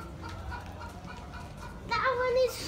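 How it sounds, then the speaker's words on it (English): Chickens cluck in the background at a pumpkin patch under steady ambient noise, with a louder burst of squawking near the end. "There's chickens everywhere."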